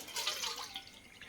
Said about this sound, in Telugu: 6 గిన్నెలు వాటర్ వేయాలండి